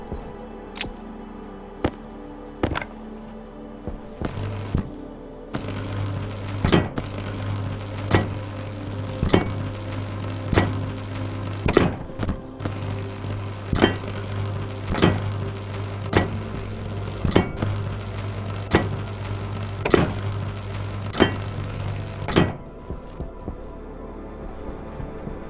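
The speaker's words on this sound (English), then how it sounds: "Floor welding." Floor welding in the video game Stationeers: a steady electric hum runs beneath a string of sharp metallic clanks and taps, repeating roughly every second, with no voices.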